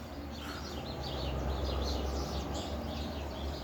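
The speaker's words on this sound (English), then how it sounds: "Thank you, noisy birds." Small birds, including a chickadee, chirp outdoors in a steady mix of short high calls over a continuous low rumble of background noise, with no talking.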